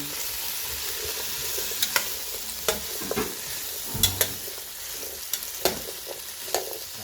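Vegetables sizzle steadily in a hot pan while a utensil scrapes and stirs them, with intermittent clacks against the pan.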